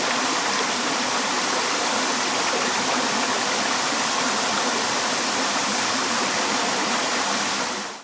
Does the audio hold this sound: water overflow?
yes